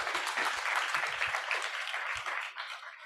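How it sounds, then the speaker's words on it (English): An audience at a peace and gender equality forum in Arusha applauds a panel speaker, steady clapping from a crowd filling the room and tapering off toward the end. "A round of applause for her"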